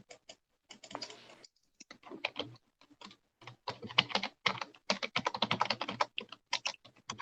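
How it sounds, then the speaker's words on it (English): Computer keyboard clacking in steady bursts of close, crisp keystrokes with short pauses between runs, heard alone without talk. "Sorry about the keyboard clacking."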